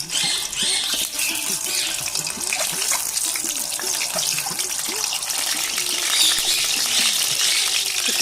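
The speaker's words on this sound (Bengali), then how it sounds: "এখন ডিমগুলো ভেজে নেব।" Boiled eggs frying in hot oil in a wok, a continuous crackling sizzle with bubbling spatter throughout, a voice talking intermittently over it.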